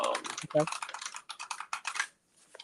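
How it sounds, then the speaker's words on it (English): Rapid clattering keystrokes on an incredibly loud computer keyboard, close and bright, in quick irregular bursts with brief pauses, a short vocal sound partway through and a few softer taps at the end. "With the incredibly loud keyboard."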